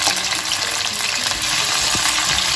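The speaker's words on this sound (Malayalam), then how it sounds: "ഇതെല്ലാം കൂടെ ഒന്ന് വഴറ്റി തക്കാളിയൊക്കെ നന്നായിട്ടൊന്ന് ഉടഞ്ഞു വരണം" Chopped tomato, onion and garlic fry loudly in a hot pan for homemade pizza sauce, with a continuous sizzle and occasional stirring scrapes up close.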